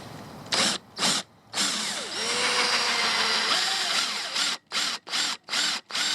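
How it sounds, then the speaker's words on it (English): Step drill boring through a motorcycle rim to fit a rim lock on a Suzuki DR650, heard as a steady whining drill run of several seconds between short bursts of spinning up and stopping. "he's not using a drill as such, he's using a stepper drill"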